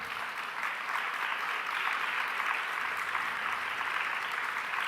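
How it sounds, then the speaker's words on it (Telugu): A church congregation applauds during a Christian worship service, with dense, steady clapping that stays loud and sustained for the full stretch and no voice rising above it. "బాగా నడిస్తే బాగా చప్పట్లు కొట్టండి."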